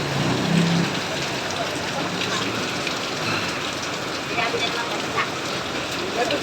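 Rain pours down steadily in a broad, even hiss of drops on surfaces outdoors near a blocked drain in a flooded street, with faint voices briefly underneath.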